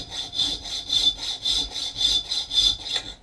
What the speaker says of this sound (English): we're going to cut a finger choil in here.